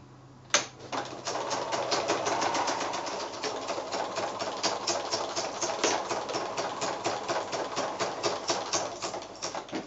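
A sewing machine stitching fabric with metallic thread while making an appliqué card, a fast even mechanical clatter that starts abruptly with a click and runs steadily, close and alone without talk.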